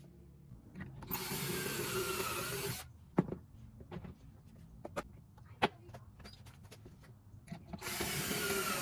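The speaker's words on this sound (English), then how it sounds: "I needed to get pocket holes onto the shelf. I used the jig" A power drill bores pocket holes through a wooden shelf using a pocket-hole jig, two sustained bursts of whirring at the start and end with sharp knocks and taps of handling in between.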